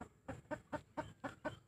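A chicken clucks in a quick, steady series of about seven short bursts, close and fairly loud, with nothing else competing.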